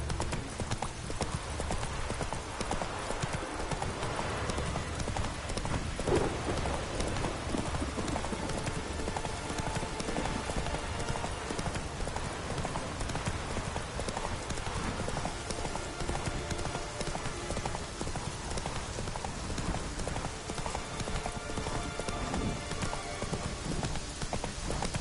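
Horse hooves clip-clop continuously in Witcher 3 as the mount trots along. The steady rhythmic beat is mixed with game ambience and stays at an even level throughout.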